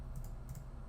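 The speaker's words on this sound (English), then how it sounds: "Let's type in Mike." A couple of quick, soft keystrokes tap on a computer keyboard, faint and close with nothing else around them.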